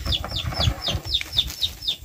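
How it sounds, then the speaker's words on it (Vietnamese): A chicken, kept near a snake trap, clucks in a quick run of about eight sharp, evenly spaced calls, close and moderately loud over a low background rumble. "Còn con gà."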